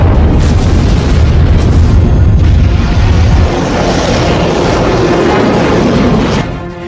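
A loud, sustained boom with deep rumbling that rolls on for several seconds before fading, like a big explosion heard fairly close.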